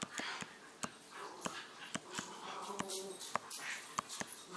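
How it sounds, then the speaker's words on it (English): Dogs wrestling and play-fighting indoors at night, heard faintly in the background: scattered sharp clicks, scuffles and snorting breaths at an irregular pace. "my dogs are fighting in the background"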